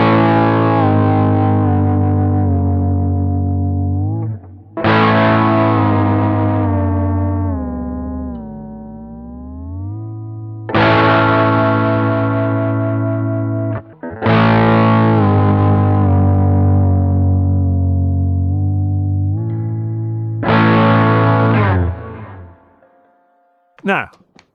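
Electric guitar fitted with a MayTrem tremolo system, played through effects: sustained distorted chords ring out and bend in pitch as the tremolo is worked, struck anew several times, loud and close with reverb tails.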